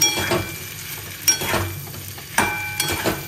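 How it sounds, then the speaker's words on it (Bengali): Mashed potatoes being stirred into a frying masala in a pan, with a steady soft sizzle and several louder scraping stirs at irregular intervals. No voices. "পুরো আলুটা দিয়ে ভালো করে একটু নাড়াবো"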